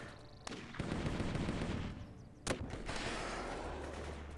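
Gunfire in the war video game Warfare, with sniper shots cracking among a dense, continuous wash of rifle fire and battle noise, two sharp loud reports standing out above the din.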